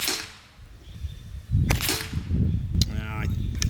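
A Reximex RPA PCP air pistol fires two sharp, close cracks in quick succession with a short gap between them and a soft rustle afterward, heard alone with no talking.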